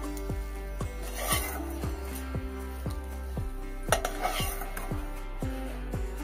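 Fried bitter gourd lifted out of a pan with the gas off, a regular series of metal spatula scrapes and clinks against the pan, close and fairly quiet, with faint voices now and then.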